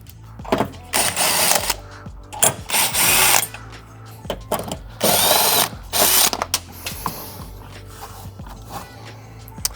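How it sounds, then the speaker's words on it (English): A power tool with a 10mm socket backs out the bolts of a factory battery bracket in a Toyota 4Runner, giving several short whirring bursts mixed with ratcheting clicks and clanks close by. "Then we're going to remove this factory bracket with a 10mm."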